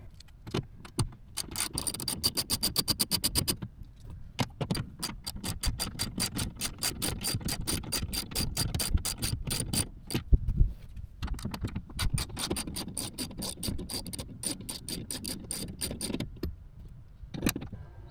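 Window regulator and motor bolts are backed out on a 2006 Nissan Frontier door with a ratchet. Close, fast clicking runs in long bursts with brief pauses, and a few clunks fall between them.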